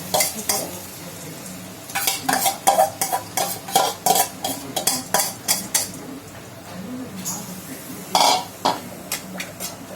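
Washed moong dal being stirred with a utensil in a wok over low heat, a series of loud close scraping and clinking strokes in irregular bursts, with a soft dry sizzle underneath.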